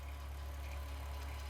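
A VW Golf Mk2 with a 3.2 VR6 engine idles while warming up, a steady, even low hum with a faint regular pulse, fairly quiet and with no voices.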